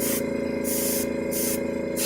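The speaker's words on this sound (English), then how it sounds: "just spray a little bit" Spray paint pulsed in short bursts onto a sketch card, three brief hissing sprays close to the microphone over a steady background hum.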